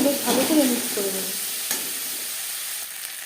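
Ginger paste, onions and garlic stirred together in a pan for egg curry, a scraping, sizzling stir loudest in the first second then settling into a steady low fry.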